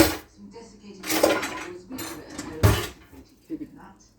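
A whisk scrapes and clinks against a metal pot as melted cream is beaten in for a cheeseburger and cauliflower casserole, in several close, uneven bursts of clatter with short pauses between.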